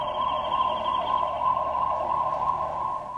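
A police car siren wails continuously and loudly as the car clears a path through city traffic in Taiwan, holding a steady high tone throughout with no voices.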